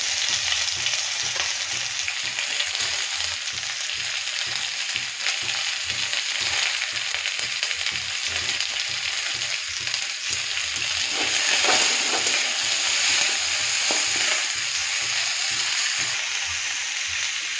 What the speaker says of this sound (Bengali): তারপরে এইবার দেব পেঁয়াজ কুচো।